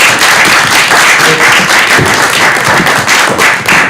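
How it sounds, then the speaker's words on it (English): Loud, sustained applause at a school board meeting, dense clapping filling the whole stretch, close and steady, no voices standing out. "round of applause"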